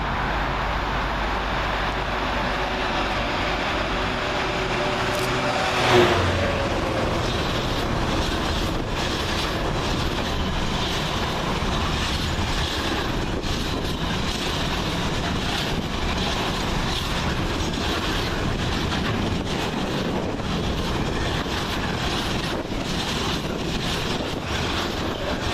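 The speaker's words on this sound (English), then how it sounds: "66551 works a freight train from Southampton MCT to Garston" Freight train hauled by Class 66 locomotive 66551, running from Southampton container terminal to Garston, passes through Milton Keynes Central station with a long steady roar of wagons, a sharp brief squeal near the start, then continuous rumbling clatter.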